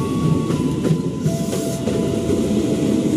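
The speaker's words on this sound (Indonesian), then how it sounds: "Dengan nomor kereta 79 belok nih guys. Masuk di jalur 1." A JR205 commuter electric train on the KRL line rolls into track 1 at a busy station, with steady rumbling, rail clatter and faint tonal whines, continuous and fairly close.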